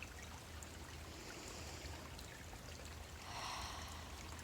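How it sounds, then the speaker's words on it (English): A small stream trickles and ripples through a fern gully, water spilling off rocks in a constant soft wash of bubbling, heard close and alone with no talking. "One thing that I tend to notice when I come into Fern Gully all throughout is the sound of the stream."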